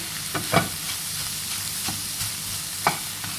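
Okra and eggs are stir-fried in a pan under a constant sizzle, with a few distinct spatula scrapes and knocks standing out, the sharpest near the start and again toward the end.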